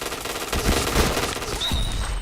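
Rapid automatic gunfire from a shooting video game crackles in dense, loud bursts, with a short lull followed by another volley and a thin electronic whine near the end.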